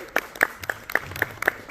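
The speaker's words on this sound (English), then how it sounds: "A little bit of round of applause for our cosplayers." A brief, light patter of scattered clapping from a small group at a comic convention panel, a handful of claps spread unevenly over under two seconds.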